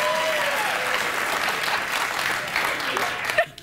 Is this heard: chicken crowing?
no